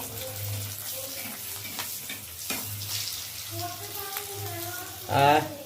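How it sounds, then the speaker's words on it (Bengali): Kachori frying in boiling oil for a home meal: a broad, bubbling sizzle runs throughout, with a voice talking over it and a brief louder splash of oil near the end. "ফুটন্ত তেলে ফুটন্ত কচুরি"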